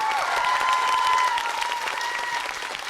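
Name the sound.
applause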